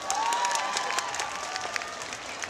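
A live concert crowd gives a band a burst of applause, scattered claps with some cheering over a faint tonal hum, fairly close and steady throughout.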